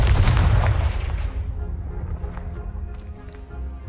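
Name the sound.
Confringo explosion spell in Hogwarts Legacy video game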